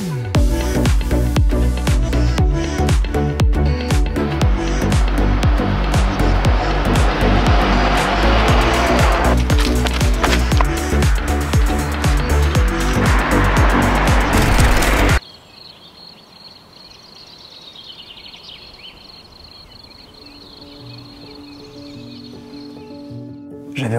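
A car driven fast on a road trip, roaring loudly and continuously for about fifteen seconds with some tire noise, then cutting to a much quieter, calmer background.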